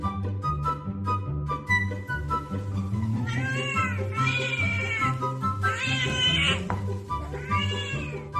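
A Korat, a short-haired Thai cat breed, gives several drawn-out, wavering meows over a steady backing melody, the cries loud and close and coming in repeated bursts.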